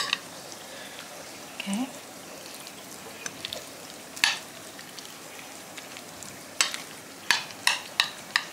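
Gado-gado peanut sauce (bumbu) is stirred with a utensil, giving faint wet swishing and a series of sharp clinks and scrapes against the container, loudest near the end, with a brief spoken word early on.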